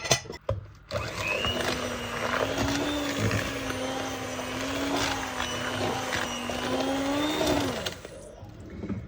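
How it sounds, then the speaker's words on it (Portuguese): An electric mixer whirs steadily while beating egg yolks with sugar in a bowl, a continuous humming motor tone that starts after a few clicks and runs for several seconds before stopping. "A gente vai bater a gema, todas as gemas, com o açúcar."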